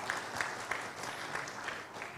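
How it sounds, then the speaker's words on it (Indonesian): An audience at the national coordination meeting for the new capital Nusantara (IKN) applauds, a thin, fairly soft patter of clapping with a few sharper individual claps standing out, fairly even across the short stretch. "Tepuk tangan sekali lagi untuk PUPR"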